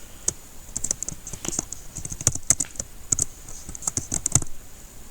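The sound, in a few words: typing a spouse name on a computer keyboard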